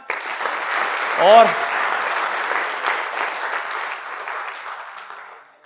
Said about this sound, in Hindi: तो आप सभी के लिए जोरदार तालियां।